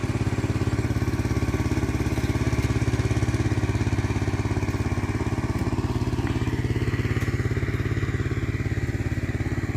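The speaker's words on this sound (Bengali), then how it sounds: "ওই যে পাওয়ার টিলার চলছে পাওয়ার টিলার চলছে" A power tiller engine chugs steadily and loudly with a rapid, even mechanical thumping rhythm, running continuously with no voices.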